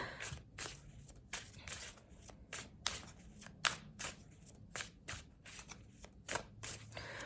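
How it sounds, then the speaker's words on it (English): A deck of cards is riffled and bridged repeatedly, quick papery bursts close up, roughly one every half second, with no talking. "I keep having these like blowouts with shuffling the"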